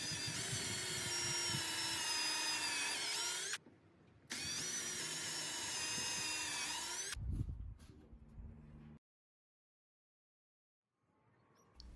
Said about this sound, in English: Here I countersink and pre-drill two holes on the underside of the two